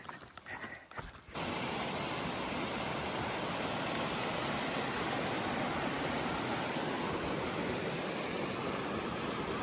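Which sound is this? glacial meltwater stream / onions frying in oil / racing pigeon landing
glacial meltwater stream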